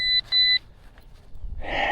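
A metal detector gives two steady high electronic tones on a target while hunting for buried finds, close and clear, followed by rustling and handling noise.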